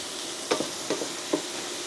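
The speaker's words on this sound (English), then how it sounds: "I'm just quickly stir-frying prawns get some colour on them." Prawns sizzle steadily in a hot pan, with a few quick scraping stirs breaking through the constant frying hiss.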